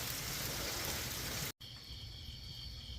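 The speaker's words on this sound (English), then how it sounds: "Started raining on me earlier, but I've got this under the carport." Rain pours steadily onto a carport roof in North Carolina, a dense hissing patter that cuts out briefly midway and returns slightly softer with a faint high insect-like hum.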